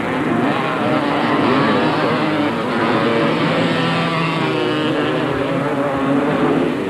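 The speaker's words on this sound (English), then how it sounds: "Gary Peterson could clearly hear the roar of the 500cc Shell Honda behind him" A 500cc Honda motocross motorcycle at a race roars steadily and loudly, its engine noise dense and continuous throughout with no letup.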